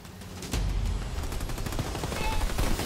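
Heavy shelling and gunfire strike a base in the Halo Wars 2 video game, a dense barrage of booming impacts and rapid shots that begins after a half-second pause and stays loud and continuous.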